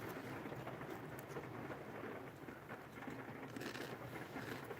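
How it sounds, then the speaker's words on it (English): Steady rain falls outside as a soft, continuous hiss with a low rumble beneath, even and unbroken throughout, heard alone without voices. "Can you guys hear the rain?"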